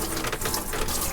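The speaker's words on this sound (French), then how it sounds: "Et vu qu'on a de l'eau courante, est-ce qu'on peut dire que le robinet marche?" Steady running water pours from the faucet of a DIY water system in a converted Kangoo/Berlingo van, a continuous close hiss and splash filling the whole moment with no talk.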